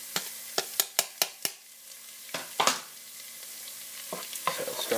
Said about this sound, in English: put that right in to get that nice sizzle